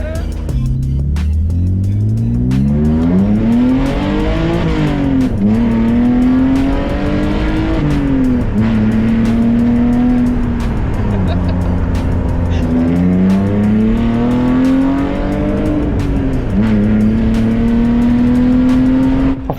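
Engine-swapped BMW E36 driven hard, its engine loud and close, revving up and down in repeated surges through the gears with tyre squeal mixed in, sustained throughout with occasional voices over it.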